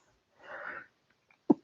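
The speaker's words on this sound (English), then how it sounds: "I want to sneeze, my apologies." A single person's sneeze: a soft breathy intake building up, then one sharp, close burst at the end, with no talking.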